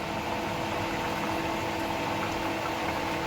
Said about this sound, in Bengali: এবার একটু ঘি দেব আর একটু গরম মশলা দেবো